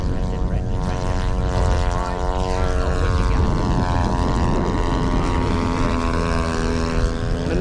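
A radio-controlled P-47 Razorback model plane flies with its electric motor droning steadily and loudly, pitch gliding up and down through the whole stretch with no talk over it.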